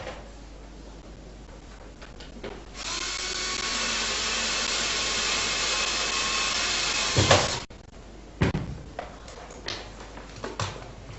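Power drill boring a hole for a USB plug in a project case set over a spacer pad: a loud, steady grinding whine for several seconds, then a sharp stop followed by a few handling clatters and knocks.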